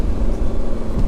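Lamborghini Gallardo V10 engine pulling hard under acceleration, a dense, loud and steady roar heard from inside the car, racing a Nissan GT-R, with no pauses across the short burst.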